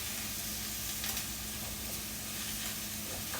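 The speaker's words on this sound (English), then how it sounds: "so now we're going to saute all this" Zucchini and squash, 200 grams of each, sautéing in a pan with peppers, giving a steady, even sizzle and hiss that runs unbroken throughout at moderate level.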